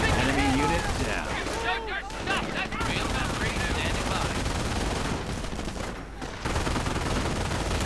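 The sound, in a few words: gunfire in a WWII video game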